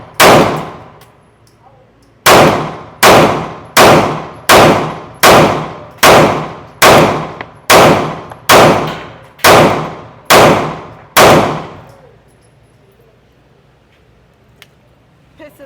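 Rapid gunshots from a Staccato CS 2011 pistol fired at about 7 yards on a range, eleven loud, sharp reports in a steady, evenly spaced string, each ringing out briefly before the next.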